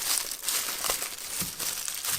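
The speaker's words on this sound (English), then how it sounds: "let's take off the tissue paper and reveal each part of X-23" Close, continuous crinkling and rustling as tissue paper is unwrapped from an Iron Studios Marvel X-23 (X-Force) statue, with small irregular crackles and no voices.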